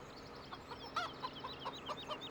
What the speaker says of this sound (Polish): No kury tak jak wyglądają, jak wyglądają. Coś tam chodzą, coś tam grzebią, coś tam dziobią.